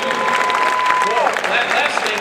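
Audience at an Empower Network event in San Diego clapping steadily as a dense, continuous wash, with whoops and voices calling out over it.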